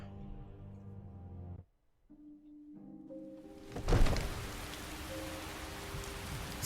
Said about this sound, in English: Still dark and raining.